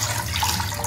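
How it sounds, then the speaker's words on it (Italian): Water pours steadily into a mixing bowl while making dough for Casatiello, a continuous close splashing rush lasting about a second. "Verso un'altra parte dell'acqua."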